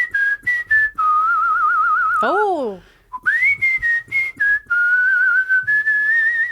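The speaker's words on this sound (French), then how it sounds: "Mais je peux le siffler." A person whistles a tune as a clear, steady melody with a brief break midway, and one voice gives a short exclamation.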